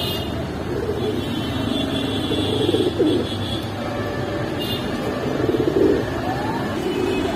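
Pigeons at the Kaptanbazar pigeon market coo in a steady, low murmur against busy market noise and distant traffic, with a few louder coos swelling now and then.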